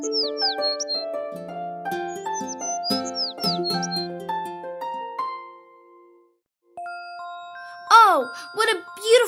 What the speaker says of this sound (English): they both heard the sound of a beautiful bird perched on a tree, singing so beautifully